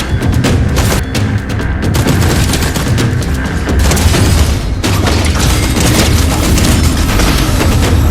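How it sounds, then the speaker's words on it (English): Dense, loud battle noise from a Fortnite sword-versus-gun fight in a colosseum match, with continuous booming blasts and bursts of gunfire running throughout without pause. "And Eliton wins the 45th Colosseum, defeating Koliak in an intense sword versus gunfight."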